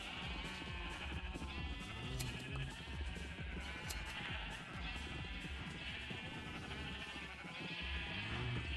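Sheep in a video game bleat again and again over a busy, steady game soundscape, overlapping calls rising in quick succession throughout, close and fairly loud.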